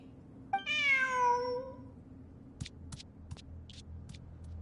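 A single clear cat meow from Genshin Impact rises and falls, followed by several short sharp clicks and taps over a faint low hum.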